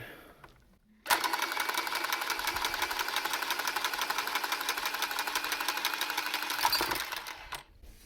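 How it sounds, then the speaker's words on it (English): M12 cordless pipe cutter working through a pipe, a steady high buzzing whir that starts abruptly, holds for about six seconds close up and then stops. "I'm going to cut this handy dandy M12 pipe cutter"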